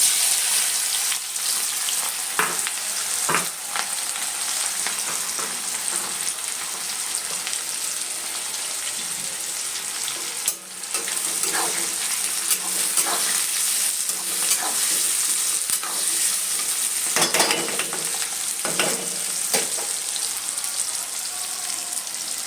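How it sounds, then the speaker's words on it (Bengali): Onions fry in leftover oil in a pan as chicken curry cooks, a continuous bright sizzle with occasional sharper crackles and brief stirring scrapes, steady and close throughout. "আর এবার পুরোটা পেঁয়াজটা পুরোটাই দিয়ে দেবো"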